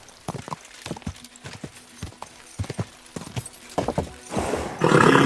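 Horse hooves clip-clopping in Kingdom Come Deliverance II, an irregular run of sharp close thuds that grows faster and louder toward the end, joined by a burst of heavy rustling noise.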